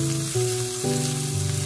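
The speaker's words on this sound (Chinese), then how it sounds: "油热之后把姜蒜末小米辣全部放入锅中，给它翻炒一下" Minced ginger, garlic and small chili peppers hit hot oil in a wok and sizzle loudly while being stir-fried, a brief close crackle with stepped tonal hum underneath.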